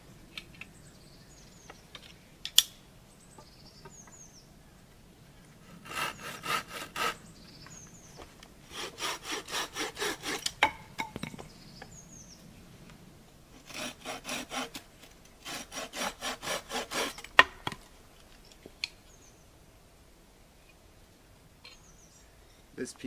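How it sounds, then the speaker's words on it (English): A straight, thumb-thick hazel stick is cut to length with a hand saw, giving several bursts of rasping back-and-forth strokes separated by pauses, close and fairly clear, with scattered knocks and handling sounds between. "and we'll just cut this into size."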